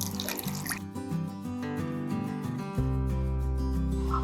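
A glass of water pours into a blender jar holding oats and honey for a smoothie, making a continuous gurgling stream with a ringing tone that deepens as the jar fills. It is moderately loud, with no talking.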